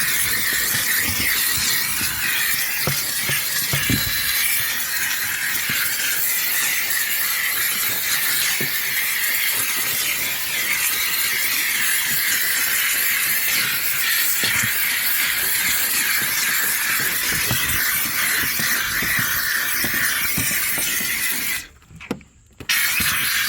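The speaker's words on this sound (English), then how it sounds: "When you're blasting steam like this, you want to be careful not to oversaturate the surface" A steam cleaner hisses loudly and continuously while detailing a car, a bright sustained blast that cuts off briefly near the end before resuming.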